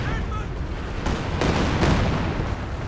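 A Katyusha rocket barrage in Company of Heroes 2, a rapid cluster of loud booming impacts and crackling blasts over a rumbling battlefield, with a voice talking over it.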